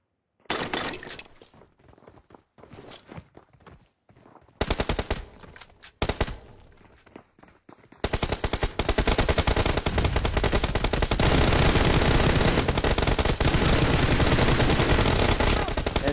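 Machine gun fire in PUBG Mobile, a training-room match in the warehouse arena, starting as a few loud bursts with gaps and then becoming a dense, continuous stream of close, rapid shots.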